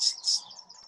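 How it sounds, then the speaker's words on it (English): A swamp sparrow sings at a festival nature walk by a river, giving short, bright high notes in a sporadic, drawn-out pattern, fairly near and clear with no talking. "Just heard a swamp sparrow singing here as well."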